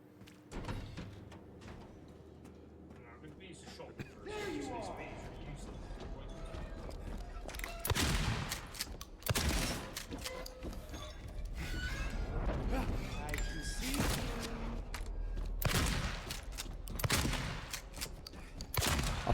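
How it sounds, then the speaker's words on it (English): Shotgun blasts in the Silent Hill 2 Remake game: a few loud, sharp booming shots spaced seconds apart, separated by mechanical clicks and rustling game sounds, with a voice talking at times. "I'm going to use the shotgun first."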